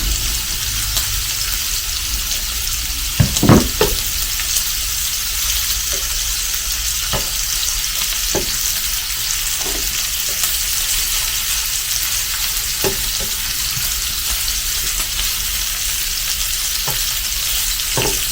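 Pieces of Japanese A5 wagyu beef fry in a pan with a loud, constant sizzle close by, broken by a few sharp pops and spatters, with no talking over it.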